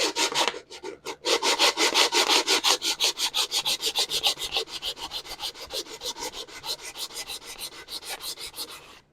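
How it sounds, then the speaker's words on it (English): Rapid, rhythmic back-and-forth rasping of 150-grit sandpaper lightly sanding a wooden stool, close and steady, easing slightly softer toward the end. "light sanding."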